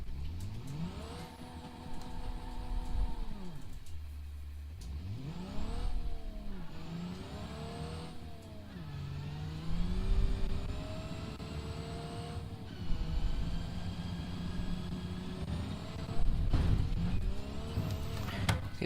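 Car engine in BeamNG.drive revs up and down in repeated surges, rising and falling pitch sweeps over a steady drone, loud and continuous throughout with no talk.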